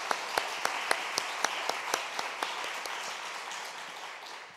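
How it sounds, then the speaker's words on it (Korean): A church youth-service congregation applauds together, a warm wash of many hands with a regular beat of sharper claps that slowly fades and loosens over a few seconds. "우리 다 함께 따뜻한 격려에 박수하겠습니다"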